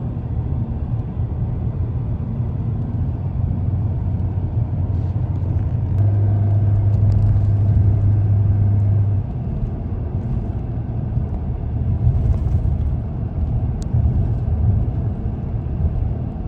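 A car rolling downhill on a scenic road through Canada, with a steady low engine and road rumble holding evenly throughout, a slightly louder steady drone midway, and no talk.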